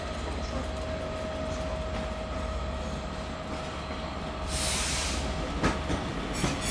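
A train hauled by Class 67 locomotive 67029 Royal Diamond passes at Manchester Piccadilly with a steady rail rumble and a faint tonal whine, then a brief hiss of air and a few clanks.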